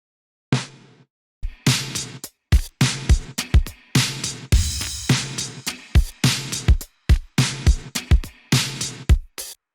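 Full synthwave drum kit with big gated reverb, a steady groove of punchy hits whose reverb tails cut off abruptly, loud and close, repeating about twice per second with no voices.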